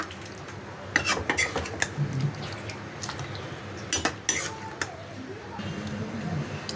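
A metal spoon scrapes and clinks against a cooking pot as coconut jackfruit curry is served out, giving a run of sharp, separate knocks and a steady scraping at close range, with someone talking softly now and then.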